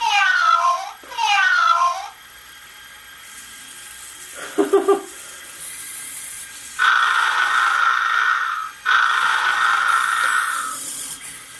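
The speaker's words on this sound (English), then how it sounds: "So he's pretending to be a cat." An I-SOBOT humanoid robot toy plays synthetic cat meows: two quick warbling meows, a short rattle, then two long drawn-out electronic mewing tones, clear and close.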